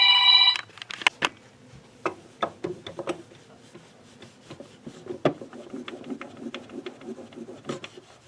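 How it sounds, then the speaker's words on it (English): A phone rings in a room, its repeated tones surfacing briefly amid scattered ticks and knocks, with a faint buzzing burst at the very start. "like I was saying before my phone rang"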